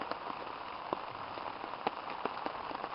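Steady rain falls on a woodland camp during a spring overnight trip on a woodland trail, a soft continuous hiss of drops on surfaces with scattered nearby drips, fairly faint.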